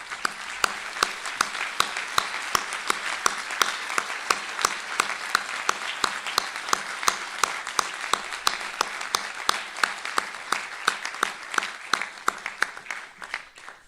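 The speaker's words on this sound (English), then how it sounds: "let's give them a round of applause." Audience at the Nichols College 2023 graduate commencement applauds the faculty, a sustained, dense round of clapping from a large crowd with some sharper individual claps standing out, lasting throughout and tapering at the end.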